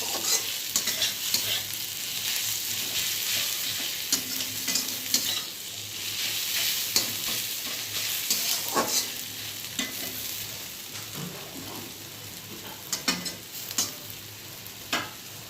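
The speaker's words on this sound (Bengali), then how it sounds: "পেঁয়াজটা আর একটু ভাজা হলে মশলাটা দিয়ে দেবো।" Onions fry in a pan, a constant crackling sizzle lasting throughout, with scattered scrapes and taps as they are stirred close up.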